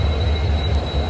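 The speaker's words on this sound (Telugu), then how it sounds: "ఢిల్లీ ఓల్డ్ రైల్వే స్టేషన్ మాత్రం కిరాక్ ఉంది" A train at Delhi's old railway station gives a steady low rumble with rail noise, continuous and fairly close, with no voices.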